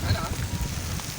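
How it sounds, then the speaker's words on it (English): Rain falls steadily in a village in Pakistan in the early afternoon, giving a dense, even hiss of drops on surfaces, close and continuous through the short moment. "It's 2 p.m. and it's just raining in my village."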